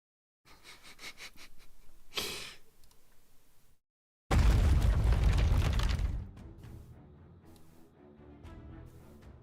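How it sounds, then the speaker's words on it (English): In the video game Goddess of Victory: NIKKE, a few soft clicks and a breathy burst give way to one sudden loud, deep explosion, which rumbles and then fades into quieter crackling. "I hear gunfire and explosions."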